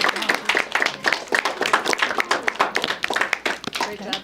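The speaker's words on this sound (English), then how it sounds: "Let's give them a round of applause." Audience at a school geography bee clapping for eliminated contestants, a loose, uneven round of hand claps from a small crowd with voices talking over it.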